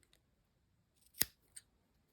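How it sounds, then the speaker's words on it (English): Scissors snip yarn once, a crisp close cut followed by a fainter click as the blades open, set against near silence. "So you cut off your yarn, leaving a bit of a tail"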